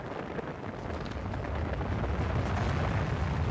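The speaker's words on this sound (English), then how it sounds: "And we have liftoff of an ILS Proton rocket from the Baikonur Cosmodrome in Kazakhstan, carrying the W2A communications satellite." Rumbling roar of a Proton rocket lifting off from the Baikonur Cosmodrome in Kazakhstan, a steady broadband thunder that swells slightly and holds loud throughout, heard from a distance with no talk.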